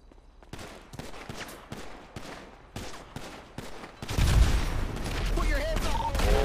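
A GTA roleplay heist at a power plant with rapid bursts of gunfire: a run of sharp, evenly spaced shots, then dense continuous firing and booms that swell louder and fill the scene.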